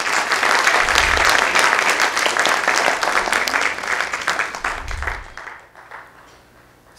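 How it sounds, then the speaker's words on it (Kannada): Audience at a harmonica music concert applauding to welcome the young player, a loud dense wash of many hands clapping that gradually thins and fades out toward the end. "ಶಶಾಂಕ್ನನ್ನು ಚಪ್ಪಾಳೆಯೊಂದಿಗೆ ಸ್ವಾಗತಿಸೋಣ"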